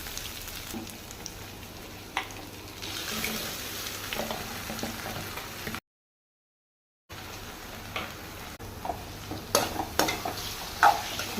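Onions stirred and frying in a pan for a goat blood fry: a soft, continuous sizzle broken by scrapes and clinks of the spoon, with one short silent gap and busier stirring toward the end.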